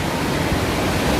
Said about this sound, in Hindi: बहुत तेज़ बारिश है दोस्तों